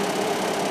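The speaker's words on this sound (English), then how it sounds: "That noise you hear is my fume hood," Fume hood above a welding bench runs with a steady, broadband whooshing drone, continuous and fairly loud, with no pauses or other sounds over it.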